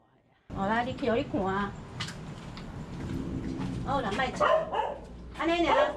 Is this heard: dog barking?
yes